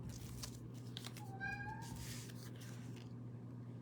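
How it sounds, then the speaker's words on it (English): A single soft cat meow rises and falls in the middle, faint and slightly distant over a steady low electrical hum. "I'm not sure if you can hear Finn, my cat"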